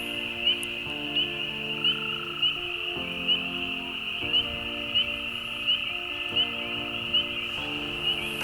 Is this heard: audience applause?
no